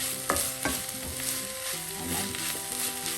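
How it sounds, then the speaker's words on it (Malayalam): Spring onion thoran cooking in an open pan, a steady close sizzle with a few clinking scrapes of a spoon stirring early on, then continuous frying with no talk. "ഇടയ്ക്ക് നമുക്കിത് ഇളക്കി കൊടുക്കാം. തുറന്ന് വെച്ച് തന്നെ വേവിക്കണം."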